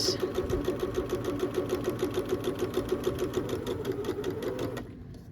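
A sewing machine stitches quilt fabric in a straight line while making flying geese blocks, a steady rapid mechanical chatter running close and continuous for nearly five seconds before stopping abruptly.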